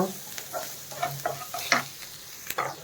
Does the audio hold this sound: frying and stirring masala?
yes